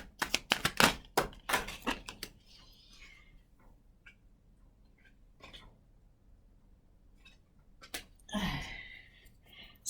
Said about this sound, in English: I'm giving these cards a really good shuffle